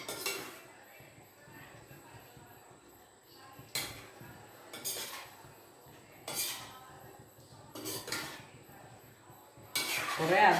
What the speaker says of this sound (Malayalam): ഇനി നമുക്ക് ഈ മീനും കൂടെ ഇളക്കിയിട്ടൊന്ന് ഉപ്പൊക്കെ നോക്കാം.